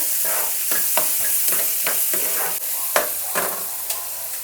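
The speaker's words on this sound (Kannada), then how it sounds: "ಈರುಳ್ಳಿ ಮತ್ತು ಕರಿಬೇವು ಎರಡೂ ಒಟ್ಟಿಗೆ ಆ್ಯಡ್ ಮಾಡ್ಕೊತೀನಿ ನೀಟಾಗಿ ಇದೆಲ್ಲ ಫ್ರೈ ಮಾಡ್ಕೋಬೇಕು" Onion and curry leaves frying in a pan with cumin, a steady close sizzle broken by regular scraping stir strokes, with no talking.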